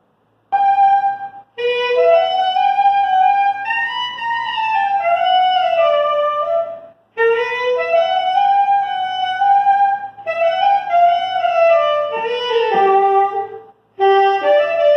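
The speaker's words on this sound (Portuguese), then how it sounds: "esse som vem do saxofone, é um instrumento musical" Saxophone playing a flowing melody in several phrases separated by short pauses, clear and close, with no talking.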